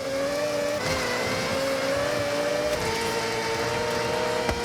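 A Mazda 787B built as an all-wheel-drive rally car in Forza Horizon, its engine screaming at high revs with shifts and pitch changes, loud and continuous with no voices.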